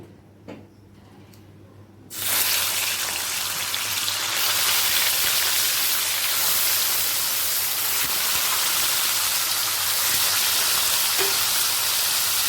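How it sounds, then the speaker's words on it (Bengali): Katla fish pieces hit hot oil in a pan and burst into a loud, sudden sizzle that settles into a steady, dense hiss and crackle, close and continuous with no talk. "দু পিঠে ভেজে তুলে রাখবো অপর পিঠটা ঠিক একইভাবে ভেজে নেব"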